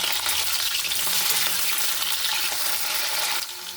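Potato and cauliflower pieces fry together in a pan for a vegetable daliya dish, a dense, steady sizzle that stays loud throughout and dips slightly near the end, with no voices.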